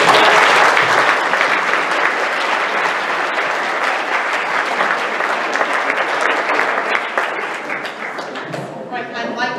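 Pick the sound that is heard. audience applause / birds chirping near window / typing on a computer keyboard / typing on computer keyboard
audience applause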